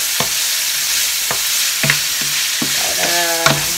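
Meat browning in oil in a pan, with a loud, steady sizzle and a few sharp scrapes and knocks of a utensil stirring, close up and with no speech.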